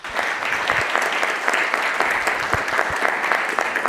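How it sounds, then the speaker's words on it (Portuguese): An audience at a business event applauds steadily and fairly loudly, a dense patter of many hands that keeps going without a break. "uma salva de palmas para o Iguinho e para o Manfred aí, gente."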